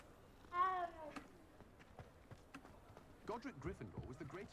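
A cat in a Harry Potter video game lets out one loud, harsh meow near the start, followed by quieter scattered game noises and a burst of chattering, chirpy sounds toward the end.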